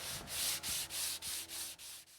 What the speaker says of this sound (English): I'm going to go ahead and do some sanding on these other pieces, some fine sanding with some 220 by hand.